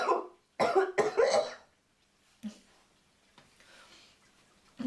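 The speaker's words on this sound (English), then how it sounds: "I had a bit of a coughing fit" A burst of several harsh coughs close by, followed by quiet with a few faint clicks and one more short cough near the end.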